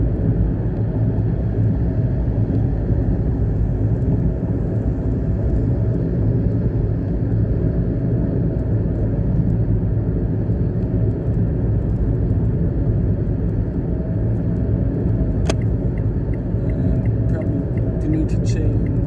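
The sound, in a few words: Mitsubishi Mirage engine at 2,200 RPM climbing a mountain road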